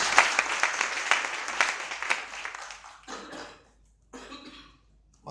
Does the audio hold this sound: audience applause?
yes